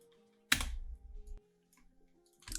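Computer keyboard keys pressed for a Ctrl-Shift-D shortcut in After Effects: a loud burst of clustered clicks, a quiet pause, then another short keystroke cluster at the end, with no talking.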